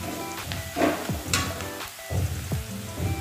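Chopped onions fry in a hot pan until lightly reddened, ready for spices in a jackfruit curry; a steady close sizzle with soft crackles and a few light stirring scrapes, no talking.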